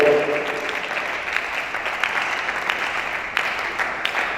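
A church congregation claps and cheers in praise of the Lord during a worship retreat, a steady dense wash of applause filling the space with a few louder swells, no voices standing out.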